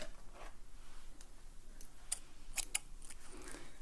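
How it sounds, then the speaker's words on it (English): Sharp metallic snips of scissors cutting hair in a salon, a few quick isolated clicks spaced irregularly, close and crisp over a faint hiss, no talking. "I'm going to use a different pair of scissors for this."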